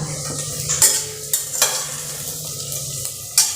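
Onion and onion-garlic masala frying in a pan while being stirred, with a close, steady sizzle broken by several sharp scrapes and taps of a spoon against the pan, with no speech.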